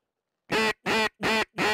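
A duck gives four loud, evenly spaced quacks near a waterside duck-hunting blind, each one short and nasal, with silence between them.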